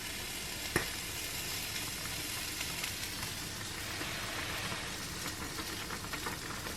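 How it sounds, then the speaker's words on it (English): Pasta boils in a pan on the stove, giving a steady, close hiss of bubbling water with faint crackles and one sharp tap early on, and no voices. "I think it's been boiling for long enough now."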